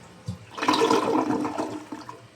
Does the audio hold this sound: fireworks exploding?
no